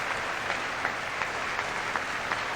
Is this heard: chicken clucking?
no